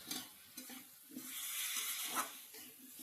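Spices fry over a raised gas flame in a quiet, soft sizzle, with rhythmic spatula scrapes and stirring strokes repeating through the clip at low volume.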